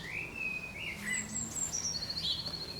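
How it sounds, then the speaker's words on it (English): Birds sing outdoors on a sunny spring morning in Basildon, a few clear whistled and chirping phrases close by over a quiet background, with no talking. "The sun is shining, the birds are singing"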